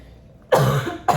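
Two close, harsh coughs in quick succession, the first longer and rougher, the second a short burst right after.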